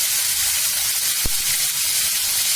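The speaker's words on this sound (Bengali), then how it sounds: "মাছটা ভাজা হতে থাক।" Hilsa fish fries in hot oil with a continuous loud sizzle and a single brief clink midway.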